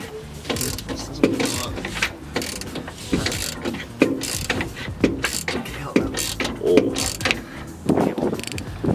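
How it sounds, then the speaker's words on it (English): Ratchet clicking in repeated quick bursts while bolts are tightened on a Mazda Miata differential during a diff swap, close and fairly loud against faint background noise. "Tighten up all the bolts."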